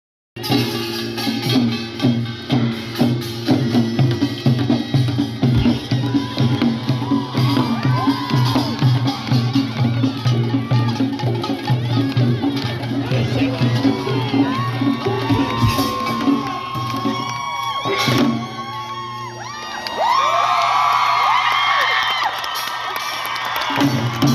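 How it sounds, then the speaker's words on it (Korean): A Mexican audience cheers, whoops and applauds at the end of a traditional Korean military band performance, a dense, sustained crowd roar with shouting voices and clapping that swells again near the end. "군악대의 전통 공연이 끝나고 관객들은 박수를 아끼지 않았는데요."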